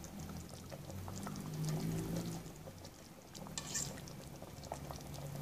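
Pot roast with carrots simmering uncovered in a pot to cook off water, a steady bubbling and sizzling wash at moderate level with faint pops and patter throughout, no voices.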